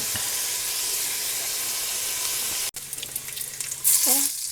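Bacon browning in a frying pan at home gives a continuous close sizzle and hiss, with a brief break and some clatter and higher crackle near the end, no one speaking.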